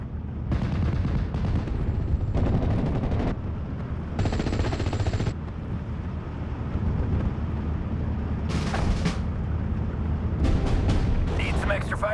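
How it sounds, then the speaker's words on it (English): Artillery barrage in the World War II strategy game Steel Division Normandy 44: loud, heavy booming blasts and crackling gunfire come in repeated bursts over a steady rumbling battle din, with brief clipped voices at times. "Artillery, at your orders. Drop 200. Six rounds."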